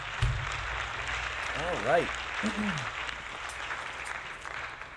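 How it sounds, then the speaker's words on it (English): Faint applause runs steadily beneath a voice during a live retro gaming stream, a soft crackling wash that never rises above the talk. "give yourselves a round of applause for sticking with it"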